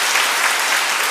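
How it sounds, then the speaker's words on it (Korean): A church congregation breaks into dense, steady applause to welcome a woman, a loud wash of many hands clapping together with no voices over it. "네, 박수 좀 환영하죠."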